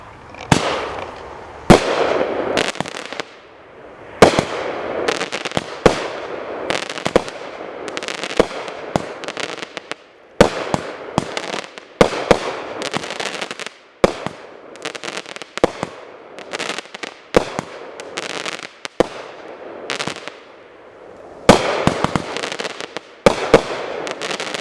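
A Rain of Fire fireworks cake goes off with a long string of sharp, loud bangs and crackling bursts, irregularly spaced with a few rapid clusters, booming outdoors for the full stretch with no talk.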